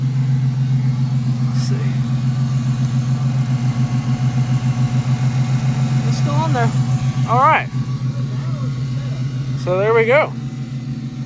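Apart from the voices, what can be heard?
drift car engine running with new header and exhaust, no tune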